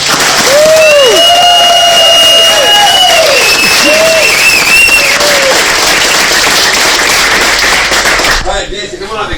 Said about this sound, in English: They're all going to give you guys a giant round of applause.